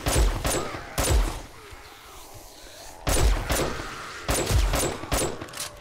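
Armor-piercing rounds fired in the video game 7 Days To Die during horde night, sharp gunshots in quick bursts and single cracks spaced across the moment, loud and close.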